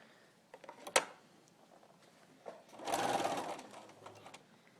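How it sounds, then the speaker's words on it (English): A sewing machine runs in a short burst as it stitches across fabric pieces from one corner to the opposite corner, with a sharp click beforehand and quiet handling noise around it. No one speaks. "I'm going to sew from this corner to this corner"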